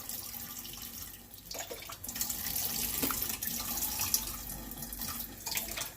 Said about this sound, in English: So I gently give it some water.